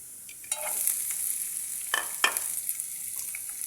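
Sliced onion, green chili and garlic fry in hot oil in a pan, giving a steady bright sizzle broken by a few sharp scraping stirs, close up with no voices.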